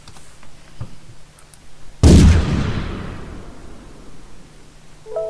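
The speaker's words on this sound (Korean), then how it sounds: "이번에는 왼쪽 대포를 한번 쏴보겠습니다." A single heavy cannon blast booms in a homemade C++ MFC cannon game, a sharp loud report that decays over a few seconds against a faint hum.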